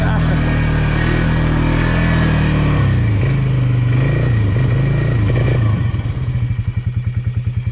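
A Polaris UTV on stock tires in mud, its engine droning loud and close, then settling into a rough, pulsing idle-like throb as it backs up in reverse.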